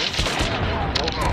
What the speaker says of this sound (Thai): ยิงปืนพกไม่แม่นเลย